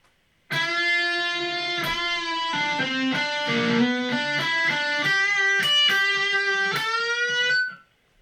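A short electric guitar lick, clean and fairly quiet, plays a run of single picked notes and bends before fading out.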